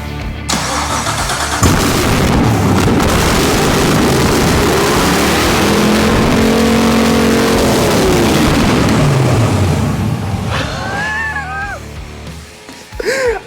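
A BMW 635csi fitted with a 6.2L Gen V LT1 V8 cranks and fires up, then runs loud and close with a rough, uneven idle before the sound drops away, followed by a few rising squeaky tones.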